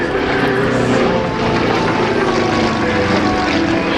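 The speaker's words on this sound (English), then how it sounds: "Listen to the sound of that radial engine in the Yak-50." A steady, loud radial engine drone from a Yak-50 aerobatic propeller plane at an airshow fills the whole clip, continuous and rough, with no breaks or voices.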